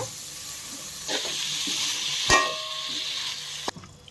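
Cauliflower pieces tipped into hot ghee in a pan, a steady close sizzle with a stirring scrape partway through and a sharp clink near the end.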